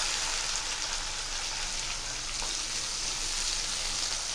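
Finely chopped tomato sautéing in a pan for fried idli, a steady broadband sizzle running continuously and fairly loud with no talk over it.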